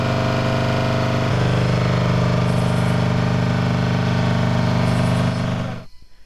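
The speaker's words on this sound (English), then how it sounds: "The sound of generators revs from a distance, distorting the night chirps by crickets." A loud, steady engine drone from running generators fills the night air in a township, a constant low rumble and hum with faint high insect chirps from crickets showing through in brief patches before the sound cuts away.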